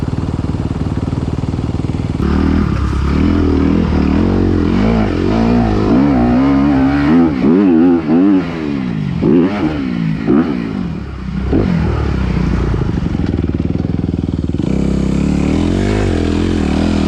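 Kawasaki KX450 dirt bike ridden on a muddy track, its engine loud and close, repeatedly revving up and dropping off with rising and falling pitch.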